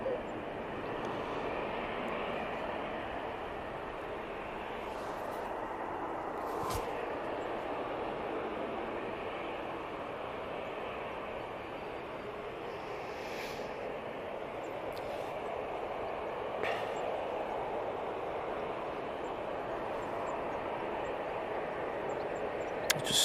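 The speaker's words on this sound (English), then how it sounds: "I just noticed that the Jet2 321 Neo jumped on in front, so we'll get that" A Jet2 Airbus A321neo airliner on final approach to Manchester Airport makes a steady, distant broadband engine roar that holds evenly throughout, with a few faint clicks and brief bursts of noise over it.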